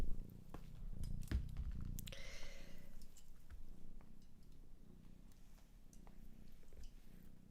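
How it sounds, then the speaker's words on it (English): A cat purrs close by, a low rumbling purr that goes on steadily under the quiet room sound, with a few small bumps and rustles. "Because the little purring machine."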